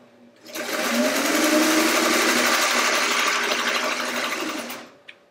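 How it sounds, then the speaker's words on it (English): A sewing machine stitches straight across jelly roll fabric strips laid face to face for a quilt top, running in one steady, close, continuous whir for about four seconds before stopping with a small click. "I'm just going to sew straight across."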